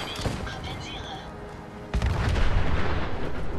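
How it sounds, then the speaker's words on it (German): Explosions in Fallout 4, a quieter stretch of distant battle noise giving way to a sudden heavy blast followed by sustained rumbling booms and crackling fire. "Jetzt explodiert die Welt wieder."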